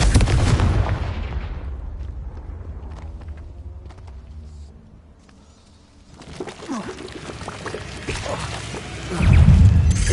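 Fiery blast effects from the Confringo explosion spell in a Harry Potter video game, loud bursts at the start and a heavy boom near the end, with a quieter crackling stretch in between.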